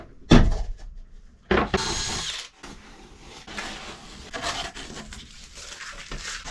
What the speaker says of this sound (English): I'm just drilling a pilot hole first so that I can then mark the other side.